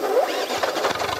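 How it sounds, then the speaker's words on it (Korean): A Volvo V60 engine running with coolant water inside it, giving a rough, gurgling, slightly squealing mechanical churn at close range for a brief moment. "엔진에 물 들어간 거야, 지금 엔진 소리가"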